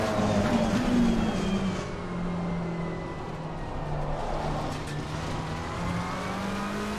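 Race car engine in the sim racing game Assetto Corsa Competizione, a steady droning hum that holds a constant pitch, slightly louder at the start and then settling, with no voices over it.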